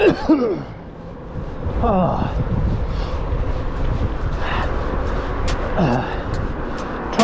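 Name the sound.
cough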